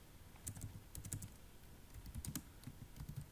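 Typing on a computer keyboard, quiet and close, with irregular bursts of key clicks broken by short pauses and no talking over it.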